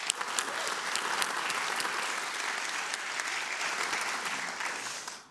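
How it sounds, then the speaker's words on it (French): An audience at a university student stage showcase evening applauds continuously, a steady, dense wash of clapping heard from a distance, fading slightly at the very end. "On applaudit bien fort Marine"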